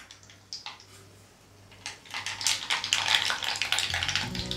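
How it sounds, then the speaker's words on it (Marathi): Mustard seeds crackling and popping in hot oil for an amboli breakfast tempering, faint scattered crackles at first that grow into a denser, louder sputter. "मोहरी थोडीशी तडतडू द्यायची"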